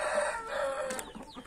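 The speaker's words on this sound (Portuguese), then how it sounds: "essa franga do lado de fora ali, galera, é o frango macho que o rapaz passou pra mim." An all-black bearded young hen clucks outside, a few soft, close clucks and a brief rooster-like call over steady background noise, with no talk.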